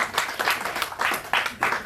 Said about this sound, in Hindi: एक बार जोरदार तालियां भी इनके लिए हम लोग बजाना चाहेंगे